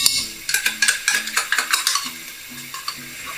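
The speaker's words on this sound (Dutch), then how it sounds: "een minuutje weer de tomatenpuree mee bakken" Tomato paste from a small 70-gram tin frying in a pan for a schnitzel sauce, with a spoon stirring and scraping in a quick repeated rhythm over a soft sizzle, close and alone.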